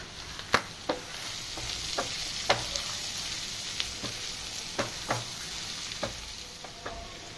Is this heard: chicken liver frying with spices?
yes